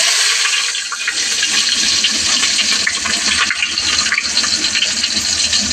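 Chopped onions dropped into hot oil in a pan, giving a loud, steady sizzle and crackle that runs continuously from start to finish with no talking.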